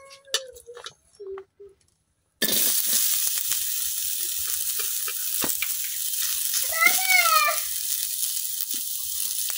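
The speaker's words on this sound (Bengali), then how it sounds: "এখন ভাজা লইলাম কাটে রাখা পেঁয়াজ।" Chopped onions sizzle and fry in a hot pan with a steady, close hiss, after a short quiet start. Now and then a utensil scrapes, and a voice speaks briefly over the frying.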